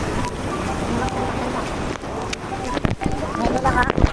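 Strong wind sweeps a Cebu coastline near a sandbar, roaring steadily into the microphone with rough gusting bursts, while voices talk underneath.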